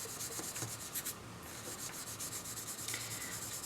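An anti-static powder tool is rubbed steadily over a card before embossing, giving a continuous close, soft scratchy brushing with slight rhythmic strokes and no talk.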